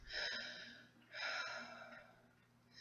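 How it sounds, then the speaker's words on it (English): Two slow, deep breaths, each a soft airy inhale-exhale lasting about a second, close and quiet with a faint low hum underneath and no talking. "Take a few deep breaths."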